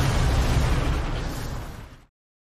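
A train blows up in a deep, rumbling explosion, loud and heavy at the start, then tapering off over about two seconds before cutting to silence.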